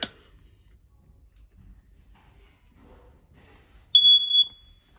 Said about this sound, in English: Right above our heads, you got your smoke detector.